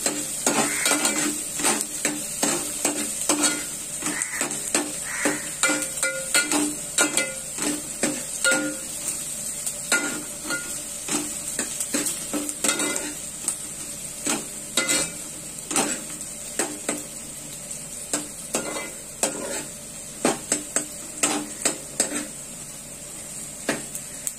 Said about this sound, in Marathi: मस्तपैकी तेलामध्ये परतून घेणार आहे.